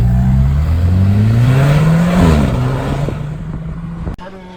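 A sports car on a road trip accelerates hard, its engine note rising steadily and loud for about two seconds before shifting and fading. A sharp click sounds near the end.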